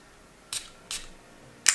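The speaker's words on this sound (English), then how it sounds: "Now let's spray it a bit on." Three quick, hissing sprays from an Armaf Club de Nuit Milestone perfume atomizer, each a short burst, with the last one sharper and louder, in a quiet room.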